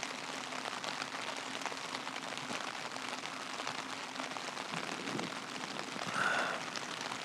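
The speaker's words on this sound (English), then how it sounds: "listening to the rain." Steady rain patters on a tent tarp at a camp in the woods, a dense, even drumming with scattered louder drops, no voices, continuous throughout.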